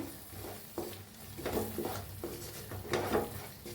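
Spiced masala with turmeric, cumin powder and chili powder being stirred in a pan, a spoon scraping and knocking against the metal in irregular strokes over a soft background hiss.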